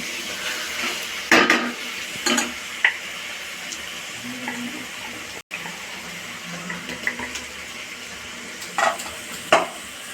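Ground masala and peanut powder fry in a pan with a soft sizzle, broken by scattered clinks and scrapes of stirring against the metal.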